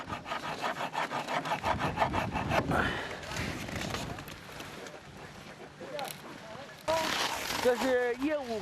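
A rough, rhythmic rasping scrape of blades being sharpened on ice chisels at a frozen lake fishery in minus thirty degree cold, close and steady, with a voice speaking over parts of it.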